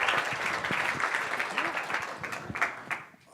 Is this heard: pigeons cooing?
no